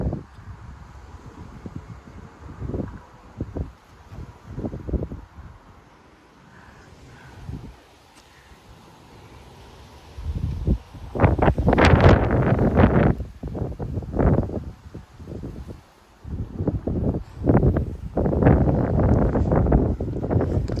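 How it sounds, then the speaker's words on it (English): Strong gusts of around 40 mph sweep through trees in a Frisco, Texas front yard, rising in rustling surges with quieter lulls between, the roar growing heavier in the second half along with buffeting against the microphone. "Another big gust is coming."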